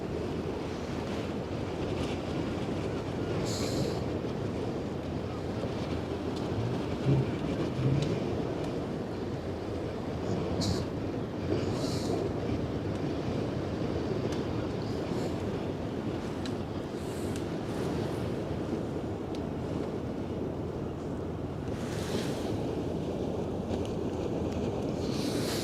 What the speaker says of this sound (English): Looks like the wind is picking up again.